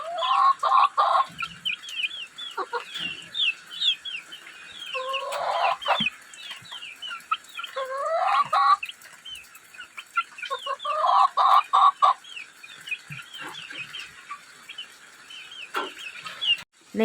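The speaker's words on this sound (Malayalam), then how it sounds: "കോഴിക്കുഞ്ഞിൻ്റെ കരച്ചിൽ കേട്ടിട്ട് പുറത്തിറങ്ങാൻ നോക്കിയത് കേട്ടോ" Chicks peep in quick high chirping runs across the whole stretch while hens cluck in louder bursts close by, the calls overlapping and rising and falling in busy irregular clusters.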